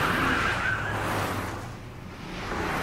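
A 1999 Nissan R34 GTR driving in a racing video game, its engine a steady rushing drone with a faint tire squeal early on, loud and continuous throughout.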